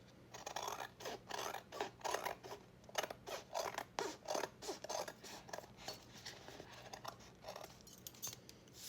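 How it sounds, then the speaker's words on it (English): Scissors trim old denim jeans with a steady run of crisp, rhythmic snips and rasping cuts, close and fairly quiet, with no talking. "I'm trimming the jeans just a little bit"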